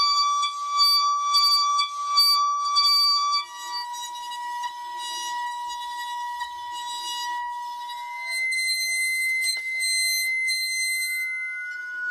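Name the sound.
violin bow rubbed on a salt-covered metal Chladni plate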